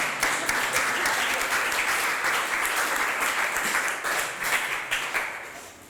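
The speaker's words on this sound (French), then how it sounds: "on peut l'applaudir je crois." Audience applause fills a French church or hall gathering after a youth choir's psalm singing, steady dense clapping from many hands, loud and sustained throughout with slight swells near the end.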